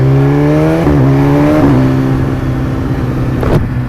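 BMW S1000RR sportbike (2010–2014 generation) engine revving loud and close, with steady harmonic pitch that rises in short steps before settling, no talk over it.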